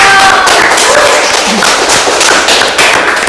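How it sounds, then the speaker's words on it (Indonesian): An audience at a campus student event for the 2021 Mojang Jajaka communication-studies selection claps in a short, loud burst. The hand claps sound dense and close, lasting a few seconds. "Keren, tepuk tangannya dong."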